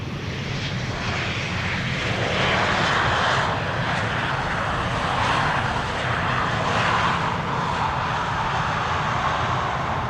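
An easyJet airliner passes over Amsterdam Schiphol Airport, its jet engines producing a steady, moderately distant roar that swells slightly and holds for about ten seconds, with no speech.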